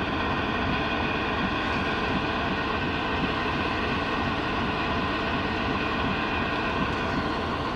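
A GE U40 diesel locomotive, number 9006, idles with its throttle at rest while heading a waiting goods train at Sanawan, giving off light smoke. It makes a steady, close, continuous low rumble with a humming drone layered over it.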